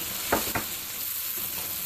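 Tomatoes and tomato puree hit a hot frying pan while cooking a moong dal and potato sabzi, giving two quick splashes followed by a soft, steady sizzle on its own.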